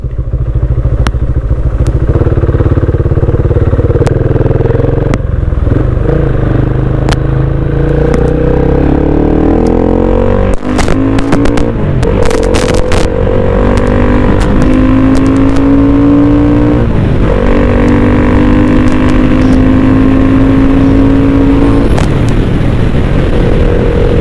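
Yamaha Exciter motorcycle with aftermarket parts, ridden on a road, its engine revving high through the gears to around eight to nine thousand rpm. The loud, steady drone climbs in pitch in repeated sweeps, with occasional clunks and thuds.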